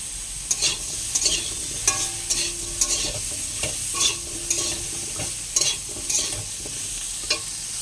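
Spices frying in a pan as ginger paste goes in, with a steady high sizzle throughout and repeated sharp scraping clicks of stirring at a regular pace, close and fairly loud, no talking.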